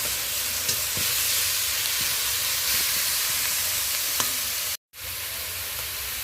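Chopped green chillies and tomato fry in a spice mix over low heat for a Bengali koi fish curry, giving a steady, close hissing sizzle that briefly cuts out near the end before resuming.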